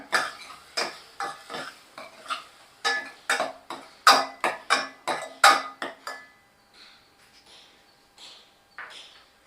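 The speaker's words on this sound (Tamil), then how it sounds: "ஒரு பெரிய தக்காளி விழுது அதை சேர்த்துக்கிறேன் நல்லா கிளறி விட்டுக்கோங்க" A spoon scrapes and knocks rhythmically against a cooking pot while ground tomato paste is stirred into a chicken curry base, a run of quick close strokes that slows and fades to a few soft scrapes.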